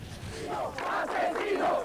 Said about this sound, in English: Chanting justice at last and Noriega assassin